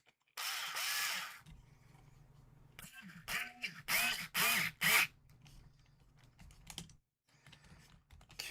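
Screws driven with a ratcheting tool to refit a bulkhead on a 3Racing Cero M225 mini RC chassis kit, bursts of clicking ratchet and whirring at close range, separated by quiet pauses and a low background hum.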